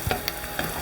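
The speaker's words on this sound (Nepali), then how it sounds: "अब प्याजलाई एकछिन हल्का फ्राई गरौँ।" Onions frying lightly in a pan for a Nepali chickpea and potato curry gravy, a soft steady sizzle with a few faint scrapes, close and alone.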